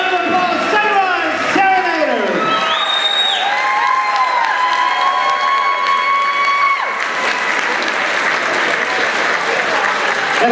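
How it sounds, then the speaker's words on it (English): Applause with whoops and cheering from an audience at a dance competition, loud sustained clapping beneath sliding shouted voices and calls that fade out partway, leaving steady clapping. "Big round of applause, Sunrise"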